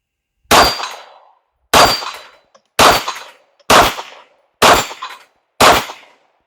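Six evenly spaced gunshots from a CZ 75 BD pistol ring out against steel plates, each a loud, sharp crack with a metallic clang decaying quickly into silence before the next.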